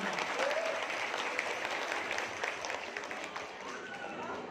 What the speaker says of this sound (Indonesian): Tepuk tangan untuk PNU.